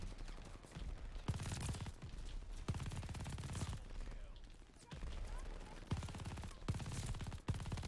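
An MG 42 machine gun in the video game Vanguard fires in rapid sustained bursts, separated by short pauses, fairly quiet overall.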